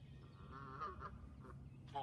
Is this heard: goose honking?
yes